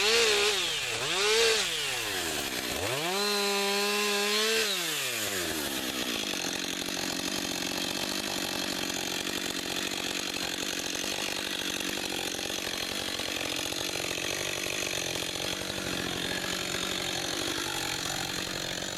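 A chainsaw cutting a fallen spruce blowdown outdoors, making a partial cut from below and then one from above: the engine revs up and down a few times, then settles into a long steady buzzing cut close to the microphone.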